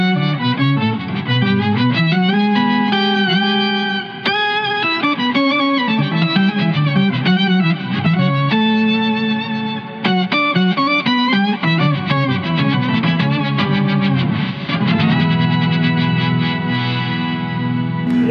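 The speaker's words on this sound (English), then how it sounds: "the synth is running into the black hole verb" Guitar synth run through an Eventide H90 black hole reverb gives a dense, sustained wash of layered tones with wobbling pitch, playing steadily and loudly throughout with no talking.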